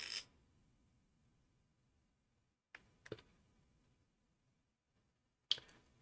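Digital card shuffle in the LU Card Game video game: a brief riffling burst at the start, then a few quiet clicks and snaps spaced out across near silence, with a final crisp flurry near the end.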